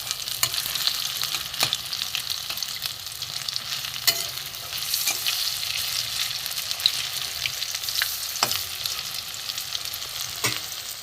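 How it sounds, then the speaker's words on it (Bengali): Egg fritters fry in hot oil, giving a steady, close sizzle and crackle with a few sharper pops and scrapes, with no voices over it. "এগুলো ভেজে নেবো একবার"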